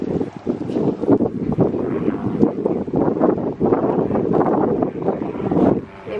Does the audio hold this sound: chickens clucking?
no